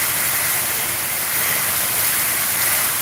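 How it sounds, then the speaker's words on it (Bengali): A strong wind roars during a night storm in Sylhet after a stretch of heat. The rushing noise is loud and continuous, with no talking. "অনেক জোর হাওয়া আসছে।"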